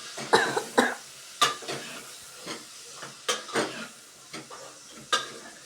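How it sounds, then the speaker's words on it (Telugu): Tomatoes sizzle in hot oil in a pan, with repeated stirring scrapes and clatters over a soft frying hiss, close by and fairly quiet. "టమాటా నూనెలో ఫ్రై అవ్వాలి."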